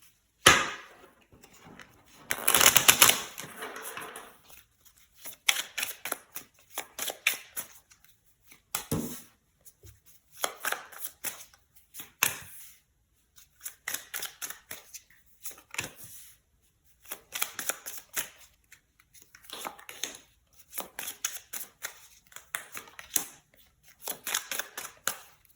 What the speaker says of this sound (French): je vais d'abord tirer les cartes